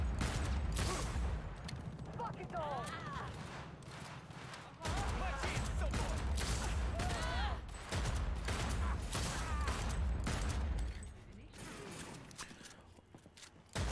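Video game gunfire in a shooter, with repeated loud, dense bursts of shots and mechanical clatter running through most of the stretch, plus a couple of brief pauses between volleys and a voice talking over the action.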